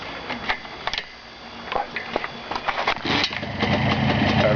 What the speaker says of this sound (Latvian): Vajag pamēģināt iedarbināt motoru.